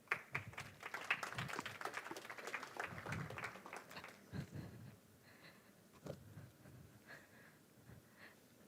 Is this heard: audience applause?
yes